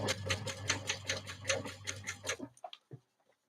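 A sewing machine runs a fast, steady stitch while basting tote bag pieces with a 1/8 stitch. It hums in a regular rhythm for about two and a half seconds, then stops, leaving a few faint clicks.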